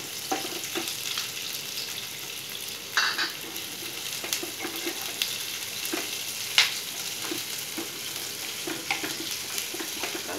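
Onion frying in a pan with cumin for cauliflower bhaji, a steady moderate sizzle broken by occasional stirring clicks and scrapes, no talking.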